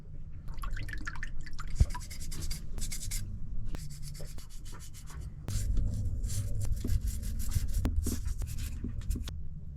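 Vinegar-and-water solution being scrubbed against a corroded impeller casing, giving steady close-up rubbing and scratching strokes with short pauses and wet, dripping textures, over a low background rumble and with no talking.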